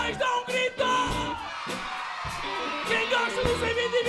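Crowd of children and parents at a children's rock concert shouting and whooping together in loud, overlapping bursts, with music and an amplified voice running underneath.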